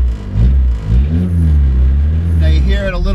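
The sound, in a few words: Mk1 VW Rabbit diesel engine, exhaust without muffler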